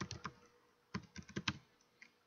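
Keys tapped on a computer keyboard while looking up the QLineEdit class reference, a quick burst of clicks, a pause, then a second run of keystrokes, close and fairly quiet.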